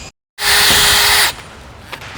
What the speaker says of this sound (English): You'll see we can pre-drill the hole with an 8mm bit.